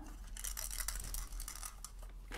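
Loose parts rattle inside an Atari game cartridge being handled, a rapid scatter of small clicks and clatters close up with no voices.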